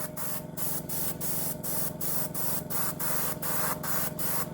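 An airbrush lays a light dust coat of paint on a model of the aircraft carrier HMS Queen Elizabeth, loud steady hissing bursts broken by about a dozen short regular pauses.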